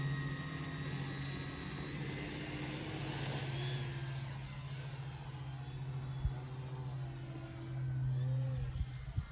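An aircraft engine drones steadily through take-off with flaps set, a continuous hum and whine heard from inside the cockpit that swells slightly toward the end, with faint clicks and no talking.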